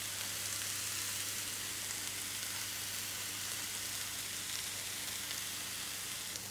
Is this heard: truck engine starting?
no